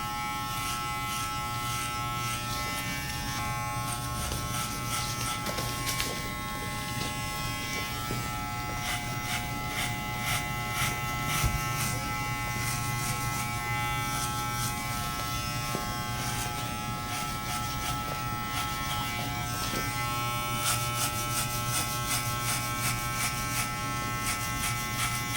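Electric hair clippers buzzing steadily and close up while cutting afro hair in a haircut, passing over the head in different directions, with the motor tone wavering slightly as the blade moves through the hair.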